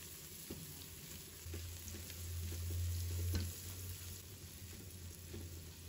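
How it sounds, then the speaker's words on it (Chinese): Pork slices stir-fried with doubanjiang in a wok give a steady, fairly quiet sizzle, with a few scrapes and clinks of the spatula scattered through the sizzling. "继续翻炒，炒出红油，把肉片给它炒至上色"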